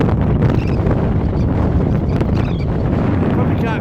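Wind blows hard across a hilltop in the Brecon Beacons, a loud, steady, close roar of microphone buffeting with constant low rumble throughout.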